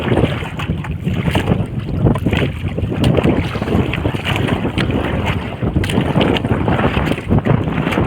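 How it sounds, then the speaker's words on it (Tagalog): Strong, steady wind roars and buffets continuously, with gusty rumble and rushing noise close by over open water. "Siguro marinig dyan yung hangin."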